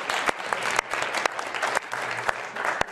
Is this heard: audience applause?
yes